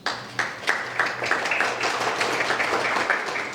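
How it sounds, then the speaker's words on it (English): An audience at an indoor event applauds, a steady round of mixed claps that starts with a few sharp near hand claps and quickly fills out into continuous clapping of moderate loudness. "Please join me to give them a round of applause."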